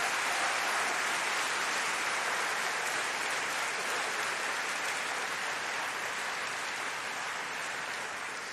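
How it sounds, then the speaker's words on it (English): A large audience at a university degree ceremony applauds the lecturers, a dense steady wash of clapping sustained evenly throughout, slightly distant in a big hall with no voices over it. "I want you to give a big round of applause to them"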